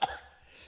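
A single short, sharp cough bursts out at the start, then fades into quiet low background hum.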